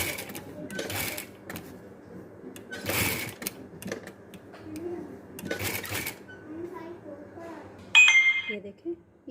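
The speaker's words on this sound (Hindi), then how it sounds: "इसके किनारे किनारे पे हम सिलाई लगा लेंगे तिल्ले के साथ।" A sewing machine runs in several short, close bursts while stitching gold tilla thread along the edge of patchwork fabric, with quiet pauses between runs, a voice talking underneath, and a bright metallic clink near the end.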